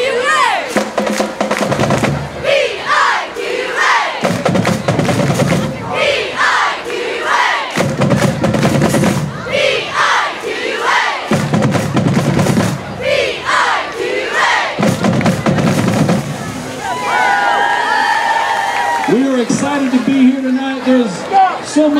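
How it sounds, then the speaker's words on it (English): Cheerleaders lead a loud homecoming pep rally crowd in a spelled-out school cheer, rhythmic shouted bursts from many voices in a large echoing space, each call answered by the crowd, ending with cheering and a brief announcer voice. "I'm going to start us off with a cheer to get this thing off with a bang"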